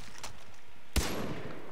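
A single sharp gunshot in the video game Far Cry 3 cracks out partway through, loud and sudden against a low background hum.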